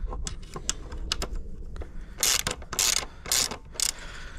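A socket wrench ratchets as screws are loosened on a Sur-Ron electric bike during shock and swingarm work, with rapid close clicking followed by several louder grinding bursts.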